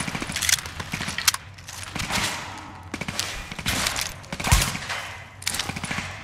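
Sniper rifle shots in The Division at Madison Field Hospital ring out as several sharp, loud cracks at uneven intervals, over a rumbling background of other combat noise.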